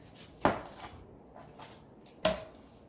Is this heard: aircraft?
no